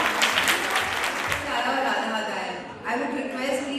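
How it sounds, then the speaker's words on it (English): An audience in a hall applauds to welcome someone speaker at a district assembly, a dense continuous wash of clapping with voices over it. "I request all the members to give a big round of applause and welcome her."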